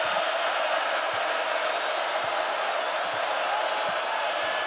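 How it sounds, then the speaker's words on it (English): Basketball arena crowd at a BYU home game against Texas Tech, a steady loud roar of many voices rising for a defensive stop, with faint ball bounces and sneaker squeaks under the din. "here comes that crowd trying to muster up a defensive stop for"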